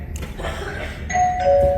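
A doorbell chimes clearly, two bright electronic tones in quick succession, close and loud over a low background hum.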